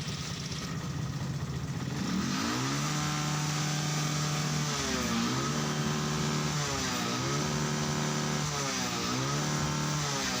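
A motorcycle engine, freshly repaired with a new regulator, is revved repeatedly to full throttle, its loud, close pitch sweeping up and falling back in several rising surges over a steady idle, with no talk.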